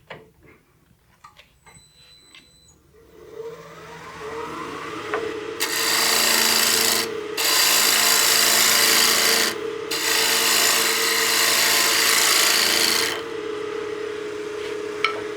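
A lathe tool cuts a small taper into a spinning wooden utility box, first with light scraping, then with loud, steady rasping in two long bursts separated by a short break.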